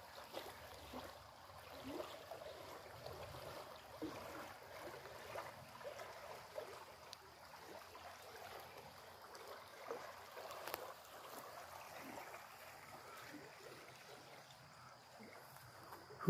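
A stream flows beside Scenic Road in Vinton, Ohio, with cinder blocks and garbage in the water. Faint, steady trickling and rushing water runs throughout, soft and distant, with no talk.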